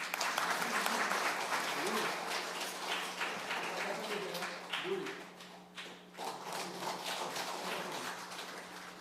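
A church congregation at a Sunday service applauds a graduating student, steady clapping filling the room with a low hum beneath and a brief dip midway before the applause picks up again.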